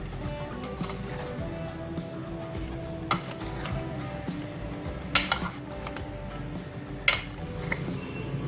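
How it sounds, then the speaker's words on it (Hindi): Fruit chaat dressed with lemon juice mixed in a bowl with a spoon, with a low steady rustle of stirring and a few sharp clinks of metal on the bowl, no speech. "तमाम चीज़ों को मिक्स करेंगे ऐसा ऐसा।"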